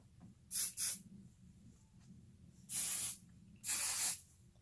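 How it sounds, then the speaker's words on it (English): Hairspray from an aerosol can misted onto a Dutch braid styled into a top knot: two quick short puffs, then two longer sustained sprays, close and crisp over faint background. "I always recommend spraying hairspray from the bottom up"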